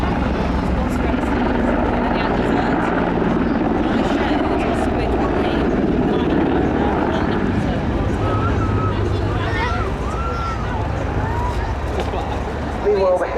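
Czech Air Force Mil Mi-24 Hind helicopter making a rolling landing on the main runway at an airshow, a loud, steady rotor and turbine roar filling the scene with faint crowd murmur beneath.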